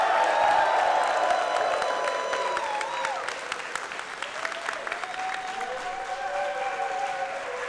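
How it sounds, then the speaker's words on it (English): Wrestling crowd in a Romanian arena applauds, a loud sustained roar of clapping mixed with cheering, while tonal ringing and a voice carry over the noise. "Let's give them a round of applause."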